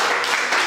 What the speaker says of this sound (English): Everybody clap it up,